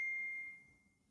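A single chime rings clearly then fades away over about a second in a quiet room.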